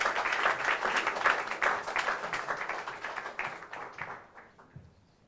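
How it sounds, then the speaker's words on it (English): Audience applause at an automotive leaders' summit session, a dense wash of clapping that starts strong and gradually thins out and fades to near silence over about five seconds. "For a round of applause for Alex."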